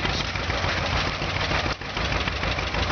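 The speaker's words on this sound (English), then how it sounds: "Driving a John Deere G." A John Deere G tractor engine runs steadily and loud during a powder puff tractor pull, a continuous close roar with a brief dip near the end and no talk over it.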